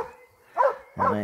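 A Posavac hound gives two short, sharp barks, close and loud, with a brief pause between them while someone talks to the dog.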